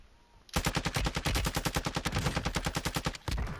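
Minigun fire in a video game rips out as a rapid, loud, continuous burst of evenly spaced shots that stops abruptly and then resumes briefly.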